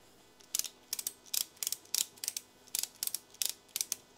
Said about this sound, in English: I'm gonna get a strap, strap it around it